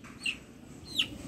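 Roosters kept by a neighbour give two short, faint clucking calls about a second apart. They sound distant over a quiet background.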